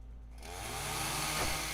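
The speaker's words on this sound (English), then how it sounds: "And chainsaws." A video-game chainsaw revs into a harsh, steady buzzing roar that swells over under two seconds, heard alone at moderate loudness.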